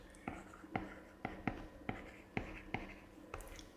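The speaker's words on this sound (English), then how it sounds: "I'll just write his name." Pen or pencil writing a name on a sketch, about eight crisp separate strokes in quick succession, close and very soft, with no voice.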